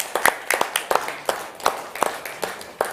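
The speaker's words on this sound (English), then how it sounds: "Can we have a huge round of applause for him?" Scattered audience clapping at a business conference panel, a few separate hands striking in an uneven rhythm, fairly close and modest in volume with no voices over it.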